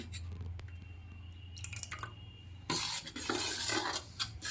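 Thin rice flour batter for chitoi pitha is stirred, first with quiet scraping and light taps, then a louder, wet, continuous swishing and sloshing close up, with no speech.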